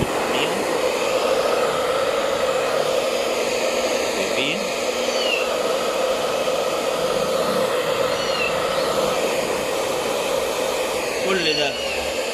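A hair dryer blows continuously on a wet cat's fur, a loud, close, steady whine that runs throughout with slight shifts as the airflow moves, while a person talks over it.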